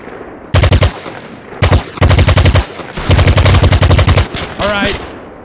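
Rapid automatic gunfire from a first-person shooter in Fabwelt's Arsenal, a blockchain NFT FPS game, coming in several loud sustained bursts separated by short pauses, with a brief zipping effect at the end.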